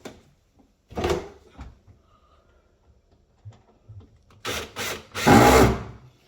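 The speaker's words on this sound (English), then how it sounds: "we need to add the actual longer screws in to hold this door in place." Screws being driven into a dishwasher door to hold it in place, heard as a few short mechanical ratcheting and clicking bursts, with a louder, longer grinding run near the end, close up and with no talk.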